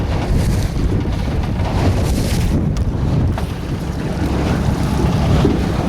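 Motorboat getting underway on a river after years laid up, its engine and hull wash blending with rushing water and wind buffeting the microphone in a loud, continuous rumble.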